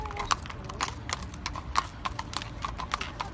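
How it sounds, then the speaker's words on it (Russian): A horse being ridden clip-clops steadily, its hooves striking in a quick, even rhythm that sounds close and continuous against a rumbling outdoor background. "Лошадь Томми поехала"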